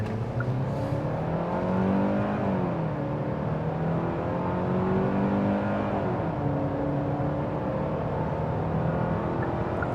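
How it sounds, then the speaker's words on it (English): A 2025 Hyundai Santa Cruz SEL pickup accelerating at highway speed: a steady engine drone with rising, shifting tones layered over constant road and wind noise, heard from inside the cabin with nobody talking. "open her up a little bit more on the gas"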